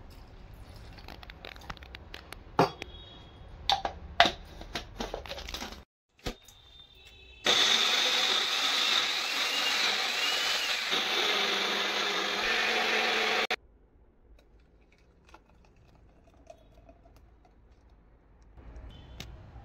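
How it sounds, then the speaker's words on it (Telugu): Mixer grinder grinding soaked rice and green gram with a little water for pesarattu batter: a loud, steady whirring run of about six seconds mid-clip, preceded by scattered clicks and handling noises and followed by quiet. "ఇప్పుడు మిక్సీకి వేసి రుబ్బుకుందాం."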